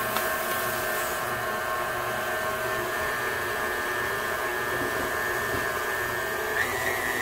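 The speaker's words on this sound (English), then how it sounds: "we're just going to start it out on the 2nd notch. So it'll start to mix all of that together." A stand mixer works pizza dough on its second speed, a steady loud motor whine with a constant hum, close and unbroken for several seconds, with no voices.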